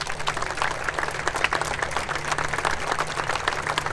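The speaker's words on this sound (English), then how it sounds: "There were moments of absolute quiet, mixed with loud applause." Loud, sustained applause from a large crowd at an outdoor vigil, dense clapping filling the space steadily with no voices standing out.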